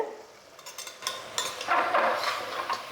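Chicken pieces with chili spices sautéing in a pan for chicken kurma, a steady close sizzle with scraping stirs that grows busier and louder toward the end, no talking.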